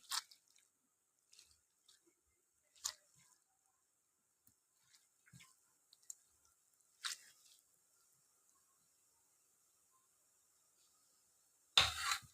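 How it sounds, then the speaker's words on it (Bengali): Boiled banana stem, cooked with salt and turmeric, is squeezed and mashed by hand, giving sparse, soft wet squishes and squelches separated by silence, with a louder wet burst at the very end. "এবার থোড়টাকে আমি চটকে নিলাম"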